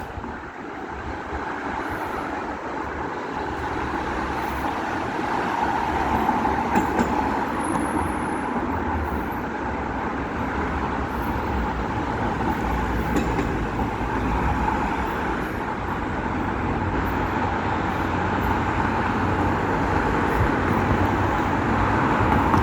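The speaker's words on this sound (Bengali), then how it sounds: "দেখুন উপর দিয়ে ট্রেন যাচ্ছে।" A train passing overhead on an elevated line above a street in Spain produces a steady, broad rumble that swells slightly and stays constant, blended with general city traffic noise.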